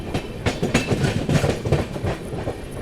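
The 12313 Sealdah–New Delhi Rajdhani Express runs on rails near a junction on the line toward New Delhi. A steady, close rumble carries a rhythmic clickety-clack of wheels over rail joints throughout.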